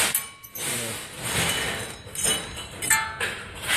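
Pieces of a shredded wheel bearing clink and rattle together in short metallic bursts, bright chinks scattered irregularly close to the listener.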